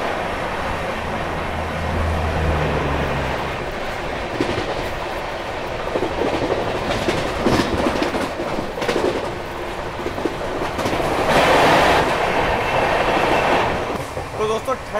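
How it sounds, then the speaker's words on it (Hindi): An express passenger train races past mustard fields at high speed, wheels clattering rhythmically on the rails with rushing wind and carriage rumble, loud and steady from inside, with occasional speech over it. "सरसों के खेतों के बीच से गजब की रफ्तार में गुजर रही है अपनी ट्रेन।"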